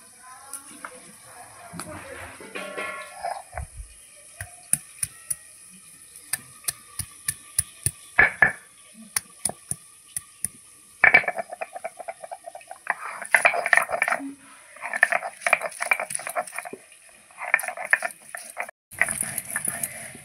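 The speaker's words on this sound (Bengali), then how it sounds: "বন্ধুরা আমি একটু কাঁচা লঙ্কা আর আদা বেটে নেব।" Green chili and ginger ground into a coarse paste for a fish-head and cabbage curry, giving repeated scraping, clicking grinding strokes in bursts, close and moderately loud, with pauses between rounds.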